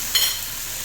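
Minced garlic sizzles and fries in a hot pan, a soft steady hiss throughout with a brief brighter flare of sizzle near the start, close and fairly loud with no talking.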